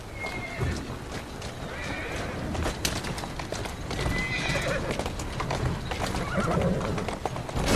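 Rapid hoofbeats of a galloping horse in the video game Assassin's Creed Syndicate, with a couple of whinnies mixed in, continuous and fairly loud.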